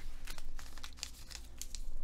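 A shopping bag is opened and rummaged through, producing close crinkling and crumpling rustles in uneven bursts.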